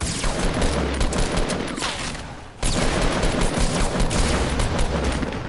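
Rapid, continuous gunfire from a Fortnite 50v50 match rattles loud and close, a dense volley broken by one brief lull before the shooting resumes.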